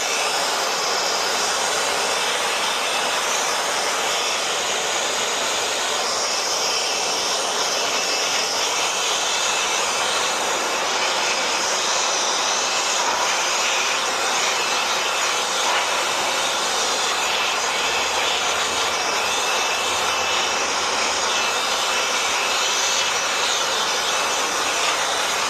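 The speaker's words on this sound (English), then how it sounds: "Let's blow the compartment clean." Compressed air blasting steadily into the outdoor compartment of a Carrier Infinity inverter heat pump, a loud, continuous broadband hiss and rush held close to the source with no talk.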